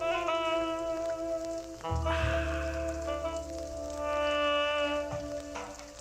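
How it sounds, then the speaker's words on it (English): Steady rain patters in the game Chicken Police, a soft continuous hiss running beneath calm, sustained music throughout. "sound of the rain, pitty-patting, nice relaxing music"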